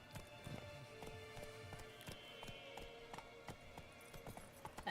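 Hooves of the horse Roach pound in a steady galloping clip-clop in the Witcher 3 video game, continuous and fairly loud through the whole stretch with no talk.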